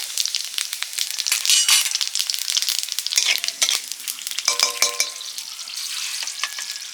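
Whole cumin seeds fry in hot oil for aloo dum, crackling and sizzling in dense bursts with scattered sharp pops and a few light metallic stirring clinks, close and loud with no talk.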